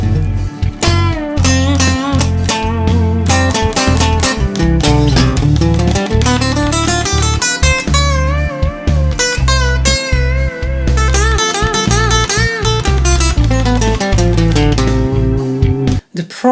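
Improvised electric guitar solo built from memorized box-shaped scale patterns, with busy melodic runs and bends played loudly over a full band backing track with steady drums, continuous for the whole stretch.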